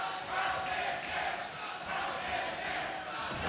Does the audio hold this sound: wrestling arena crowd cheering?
yes